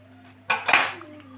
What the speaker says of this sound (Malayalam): ഇതെല്ലാം കൂടെ നല്ലോണം മിക്സ് ആവട്ടെ